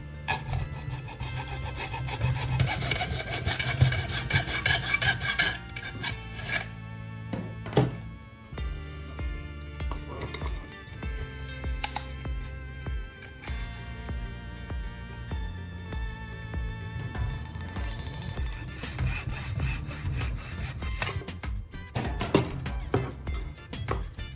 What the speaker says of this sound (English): I use a handsaw to cut a clean groove along the length of both pipes.